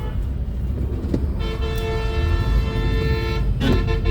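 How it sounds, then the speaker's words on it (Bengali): Bus horns blare in a stalled city traffic jam at Bijoy Sarani signal, with long sustained honks overlapping above a heavy rumbling engine and road din, and a sharper burst near the end. "বাস এত হর্ন দেয় বাবা"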